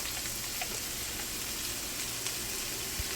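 Cold rice fries on a hibachi grill with a steady soft sizzle, fairly quiet and even throughout, ending with a brief sharp knock.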